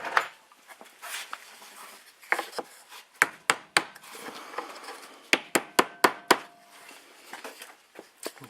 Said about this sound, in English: push that in there, give it a tap with the hammer